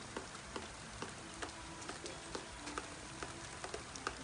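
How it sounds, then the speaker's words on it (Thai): Rain falling on a garden farm, a steady soft patter with scattered sharper drips, close and fairly quiet, with no voices. "ฝนกำลังตก"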